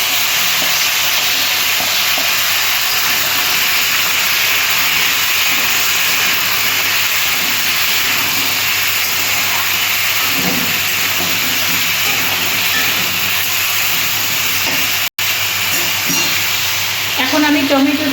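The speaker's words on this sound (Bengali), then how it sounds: "একটু ভাজা ভাজা হোক।" Bitter gourd and other vegetables fry in a pan for a drumstick and potato chorchori, a loud, close, steady sizzle and hiss with occasional stirring scrapes and a short break near the end.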